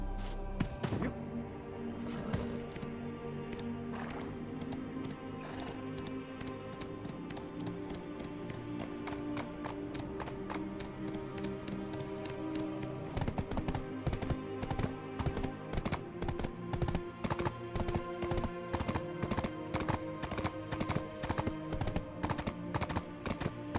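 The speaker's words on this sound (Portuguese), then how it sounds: "Vem aqui, cavalinho." A horse in a game clip-clops along in a steady, fast rhythm of sharp hoof taps that runs the whole time over a busy, dense background of game sound and music.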